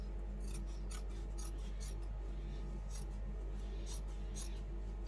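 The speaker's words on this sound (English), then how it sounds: "then we will just cut along that fold" Scissors cut along the fold of quilt fabric in a series of quick, crisp snips at a steady rhythm, close and fairly quiet over a constant low hum.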